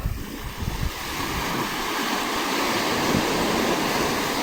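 Steady, rushing roar of ocean surf with a low rumble, continuous and fairly loud, with no distinct breaks between waves.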